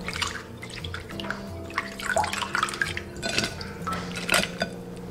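Black tiger prawns being rinsed clean in water in a home kitchen, with splashing, dripping and light clinks of a bowl and utensils, fairly close, steady throughout with a few sharper knocks.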